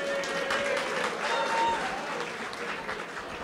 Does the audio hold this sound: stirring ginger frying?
no